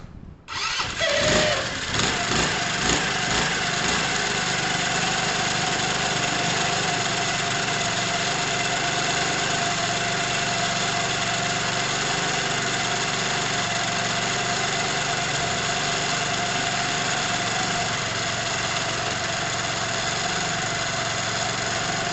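A Lexmoto FMR 125 motorcycle engine with a charging fault catches and settles into a steady idle, a constant mid-pitched rumble running unbroken throughout.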